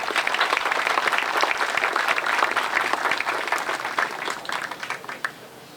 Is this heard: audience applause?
yes